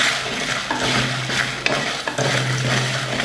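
Whole spices such as cumin, fennel, dried red chillies, peppercorns and cardamom are stirred and dry-roasted in a hot pan for a masala, giving a steady scraping rustle with light sizzling and occasional clinks, close and continuous.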